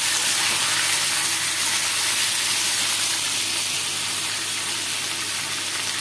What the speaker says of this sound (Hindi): यहाँ आलू फ्राई कर रहे हैं